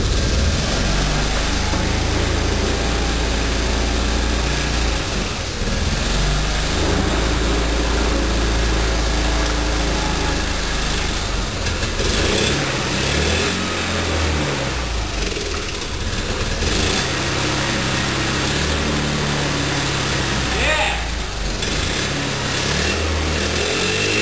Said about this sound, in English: now I guess we'll hook up a drill, crank, and see if it starts.